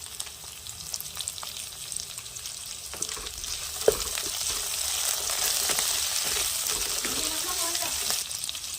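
Cumin seeds and whole spices frying in hot oil in a kadai for paste masala, a steady close sizzle that swells louder partway through, with occasional stirring scrapes and a sharp clink.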